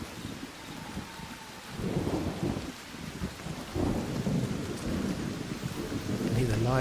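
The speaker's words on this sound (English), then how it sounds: "You can hear the lightning, the storm, the rain." Stormy weather in the ARC Raiders video game: rain falls steadily while low thunder rumbles roll in and swell in waves, with gusts of wind.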